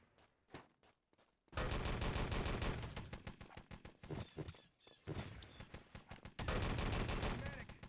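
Gunfire in Wolfenstein: Enemy Territory: a few spaced shots give way to long dense bursts of automatic fire with short pauses, loud and close, while a commentator talks over it.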